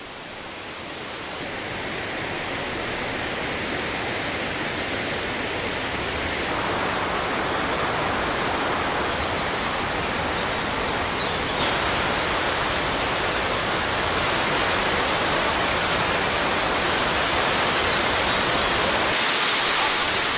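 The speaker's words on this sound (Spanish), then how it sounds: "la cascada más alta de Croacia" Croatia's highest waterfall, 78 metres tall, at the Plitvice Lakes pours in a dense, constant roar of falling water that grows slightly louder and fuller as it continues, with no voices.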